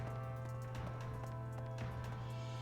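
Steady clip-clop of horse hooves in a quick, even rhythm over a constant low hum and musical drone, typical of game audio.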